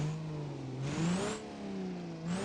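Trucks in the BeamNG.drive video game rev hard while hauling a trailer in a tractor-pulling contest, engines rising and falling in pitch through repeated gear changes, steady and fairly close with no talking.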